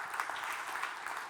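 Audience applause at an investment conference welcoming a speaker: a steady, dense wash of many hands clapping, fairly even in loudness throughout the short burst.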